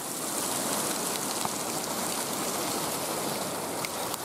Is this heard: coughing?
no